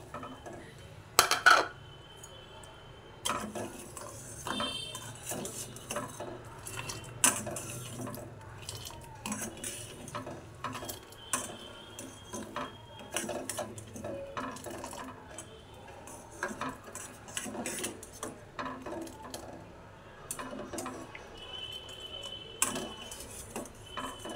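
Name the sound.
stirring ground pistachio and sugar into milk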